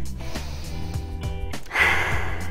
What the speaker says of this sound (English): Give me a big deep breath in